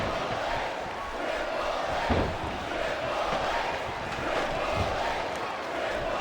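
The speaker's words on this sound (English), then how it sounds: "I cannot remember the last time I've seen a crowd this pumped up." Arena crowd in the Smackdown vs Raw 2008 wrestling video game, a steady, dense roar of cheering fans that swells slightly near the middle and end, carrying on continuously with no break.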